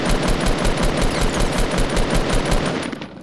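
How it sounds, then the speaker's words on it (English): Sustained automatic gunfire in the Fortnite Battle Royale video game, rapid dense bursts of shots firing continuously and loudly for about three seconds before tapering off at the end. "they're gonna hear that gunfire"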